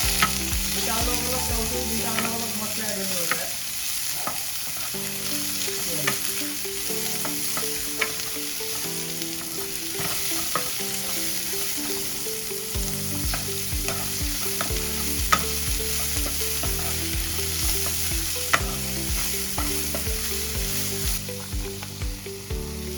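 Chopped onion and bell pepper frying in oil in a kadhai, a continuous close sizzle with the scrape and clatter of stirring throughout, no talk.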